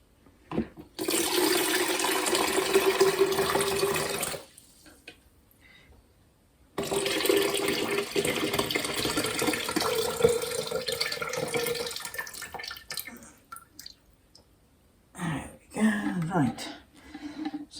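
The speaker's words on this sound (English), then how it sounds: "So now we need to drain that water out." Hot water drained off blanched tomatoes, two long gushing pours into a sink separated by a pause, followed by some brief clattering and splashing at the end.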